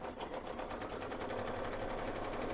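An embroidery machine runs a placement stitch in a quilting session, its needle chattering in a rapid, even mechanical rhythm that stays steady and close for the whole stretch, with no talking over it.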